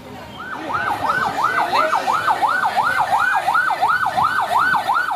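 A fire engine siren wails in a rapid, repeating rising-and-falling pattern at a warehouse fire in Indonesia, loud and steady throughout with faint traffic noise beneath.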